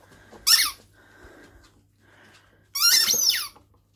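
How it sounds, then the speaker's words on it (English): A dog bites a squeaky toy, producing two loud, shrill squeak bursts, the second longer and wavering, with quiet breathing and faint rustling between them. "He's cheered up because he's got a squeaky toy."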